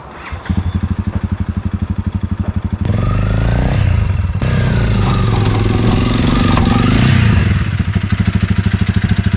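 Motorcycle engine idling loud and close with a rapid, even thump, then revving up and holding higher for several seconds before easing back to idle, with a couple of sharp clanks as it comes off the Toyota Tundra.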